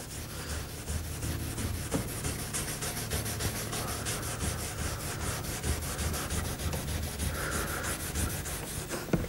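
Old black varnish being scrubbed off wooden furniture with 000 steel wool and methylated spirits, a close, continuous rhythmic rasping rub with quick back-and-forth strokes and no voices.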